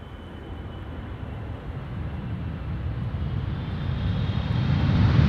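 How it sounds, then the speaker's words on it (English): China Cargo Airlines freighter on approach to land on the Polderbaan runway at Amsterdam Schiphol, a low engine rumble and whine that grows steadily louder as it nears, with no talk over it. "China Cargo Airlines, flight 209, returning from Shanghai, almost 12 hours precisely underway"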